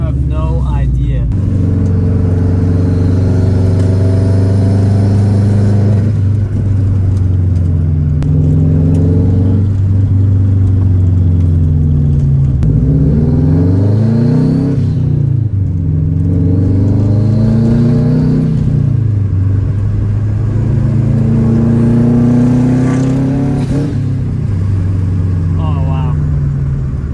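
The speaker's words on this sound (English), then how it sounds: "Y'all like my exhaust? Tell me how it sounds." Loud revs from a Subaru WRX fitted with a Tomei exhaust, the engine note swooping up and down several times over a steady throaty idle, close and continuous throughout.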